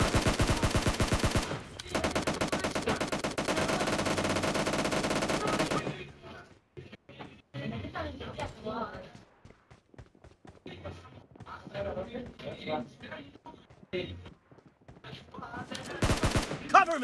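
Rapid automatic gunfire rattles loudly for several seconds in PUBG Mobile, then gives way to scattered shots, footsteps and game sounds, ending with another loud burst, with game voice announcements heard along the way.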